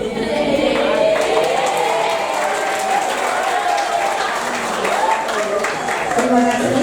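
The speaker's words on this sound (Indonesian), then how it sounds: "Terima kasih untuk tepuk tangannya." An audience of high school students from SMAN 11 Surabaya claps steadily during a campus visit at FISIP UNS. The applause is dense and continuous, with voices mixed in throughout.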